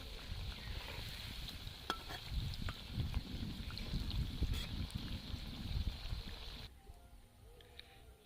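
Ripe jackfruit fritters fry in hot oil as a faint, steady sizzle with soft crackles, continuing for several seconds before cutting off abruptly near the end.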